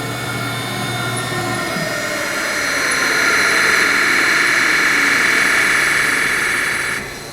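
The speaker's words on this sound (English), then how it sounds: "It backs off very slowly for about 2 or 3 thousandths, and then rapids back and sets itself home." A DCM IG 280 SD rotary surface grinder hums and whines steadily as its table moves, the loud machine drone swelling slightly midway and then dropping off near the end.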